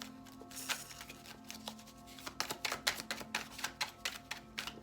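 Tarot cards are shuffled in quick, crisp riffles, a quiet run of rapid clicks that grows denser and louder in the second half.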